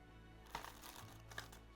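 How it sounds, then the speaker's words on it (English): A tarot deck riffles and snaps together in a quick shuffle, two soft bursts close by in an otherwise quiet room. "Oh my god, that shuffles beautifully."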